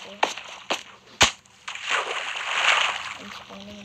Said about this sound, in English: Let's just go into the water.